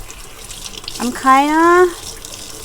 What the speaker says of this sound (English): That's why I'm rinsing it right away.